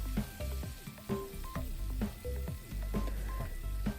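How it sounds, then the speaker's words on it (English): Chorizo, cooked zucchini and tomato stirred together in an oiled pan, a close continuous sizzle with repeated spatula scrapes in a quick, uneven rhythm. "Add your cooked zucchini and tomato next. Stir everything together."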